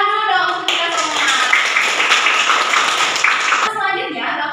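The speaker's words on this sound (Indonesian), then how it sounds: "Tepuk tangan dulu dong untuk kita semua" A classroom of students applauds during a microteaching maths lesson at Universitas Sultan Ageng Tirtayasa: a dense three-second burst of clapping, with a voice speaking just before and after it.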